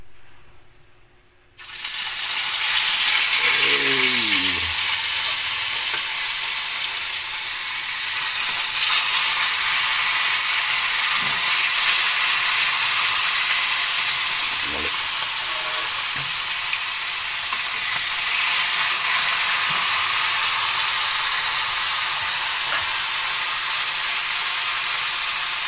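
Seasoned tilapia fries in a hot pan, a loud, dense sizzle starting abruptly and holding steady, with occasional clinks and a brief scrape near the start.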